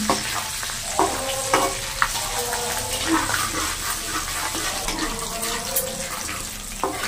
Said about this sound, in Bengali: গোটা গরম মশলা ফোড়ন দিচ্ছি, একটা এলাচ, 4-5 টুকরো দারচিনি, দুটো তেজপাতা, একটু নেড়ে নিই।